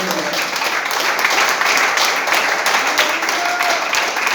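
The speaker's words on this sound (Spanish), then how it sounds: "Denle un fuerte aplauso al Señor." Church congregation giving a loud, sustained round of applause, dense clapping filling the whole stretch evenly at close range.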